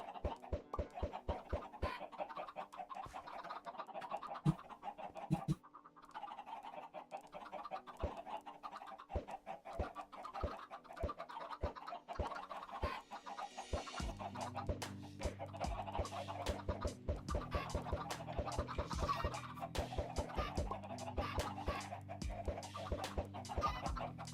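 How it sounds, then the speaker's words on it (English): Chickens cluck and chirp in a modded Minecraft world (All the Mods 9), with blocky game sound effects over a short, repetitive music-like loop; the clucks are repeated, evenly spaced and clear. "the baby chickens want to be with their mom"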